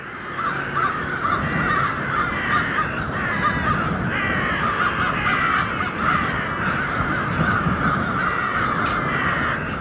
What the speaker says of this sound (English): Migratory birds decided to make a stop right in this guy's yard